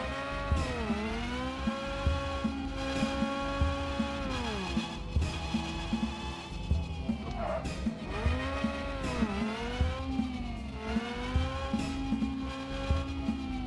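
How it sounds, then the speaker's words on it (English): A car in the physics racing game Screw Drivers pulls a handbrake turn, its engine droning with swooping pitch changes as it revs, drops and climbs again, continuous and close, with some tire scrub mixed in. "Ooh! Handbrake turn."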